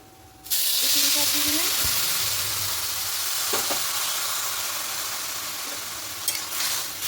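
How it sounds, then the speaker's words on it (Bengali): Three cups of rose water hit a pan of fried rice for rose pilaf, bursting into a loud hissing sizzle that settles into a long steady steam-hiss, with a few knocks of stirring near the end. "এবার এখানে জলটা দিয়ে দেব এখানে গোলাপের জলটা তিন কাপ হয়েছে"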